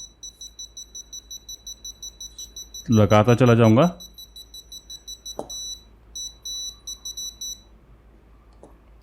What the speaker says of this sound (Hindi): तो यहाँ पर जाके जो बीप है वो बंद हो गई है